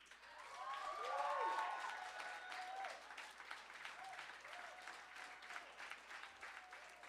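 At a poetry slam, an audience applauds a poet with sustained clapping, fairly distant and quiet, while cheers and whoops rise over it near the start.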